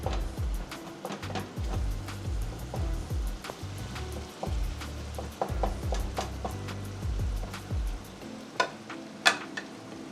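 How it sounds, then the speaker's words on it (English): Beef biryani being stirred in a pot, with repeated scraping strokes of a spoon against the bottom and a soft sizzle. The sound is close and rhythmic, there is no talk, and a couple of sharper knocks come near the end. "Keep stirring it because, as I told you, it will be stick at the bottom of the pot."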